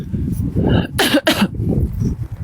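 A person coughs twice in quick succession, sharp harsh bursts near the microphone on a New Year's Eve street, with murmuring and background noise around them.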